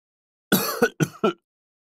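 A short burst of coughing, three or four quick coughs in close succession, close and clear against silence.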